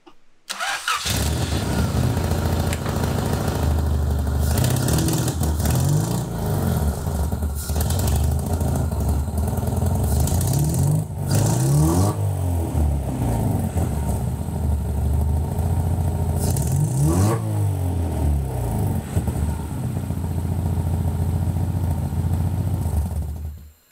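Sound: Honda Civic EF car driving

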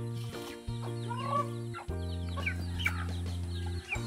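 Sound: chickens clucking

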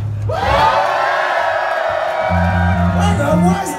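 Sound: crowd screaming and cheering for a band

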